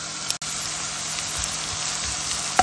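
A medium onion and six garlic cloves sizzle steadily in two tablespoons of hot oil, a continuous close frying hiss with a brief sharp break near the start.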